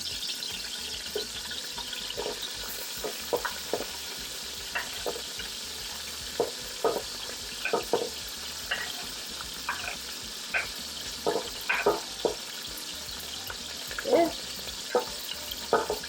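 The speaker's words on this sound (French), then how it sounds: "Dans un premier temps, on va mettre des piments et des oignons." Chillies and onions fry in hot oil with a low steady sizzle, broken by frequent spattering pops and stirring knocks at an irregular rhythm, close by and without speech.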